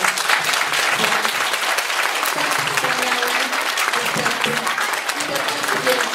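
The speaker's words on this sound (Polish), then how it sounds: "Jeszcze raz bardzo gorące brawa, podziękowanie" Warm applause from a kindergarten nativity-play audience, steady dense clapping throughout with voices talking faintly underneath.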